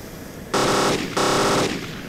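Cannon fire in the video game Arma 2, two loud rapid bursts of automatic shots, each about half a second long, separated by a short gap over a low background rumble.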